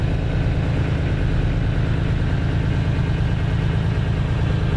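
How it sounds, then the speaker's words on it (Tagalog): A ship's lifeboat engine idles steadily during a test run, a loud continuous low rumble and vibration with no change throughout and no voices. "Ipapara na natin yung makina."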